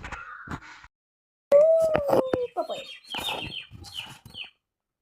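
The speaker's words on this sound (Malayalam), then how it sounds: "ഇവിടെ ഭയങ്കര സൗണ്ടാണ്, കിളികളുടെയും പിന്നെ ഇതുപോലെ തുണി നനയ്ക്കുന്നതിൻ്റെയും" Birds call and chirp in short bursts, including a loud drawn-out fowl-like cry, with brief gaps of quiet between the calls.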